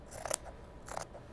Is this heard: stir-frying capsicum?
no